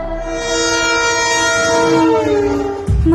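A train on a new broad-gauge line in Tamil Nadu, near Theni and Madurai, makes a trial run, its horn blaring loud and sustained with rail rumble beneath, then a clank near the end.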